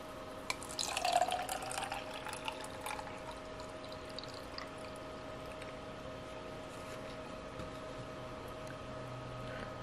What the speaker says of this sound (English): Next step is to add some water.